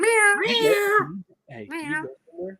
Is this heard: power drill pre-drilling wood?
no